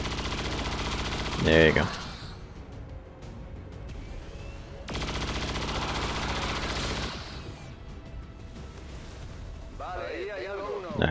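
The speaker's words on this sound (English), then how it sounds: "That's just rapid fire, just in case" Rapid-fire gunshot bursts in XCOM 2: two sustained volleys of quick shots with a metallic clatter, separated by quieter game ambience, with someone briefly speaking near the end.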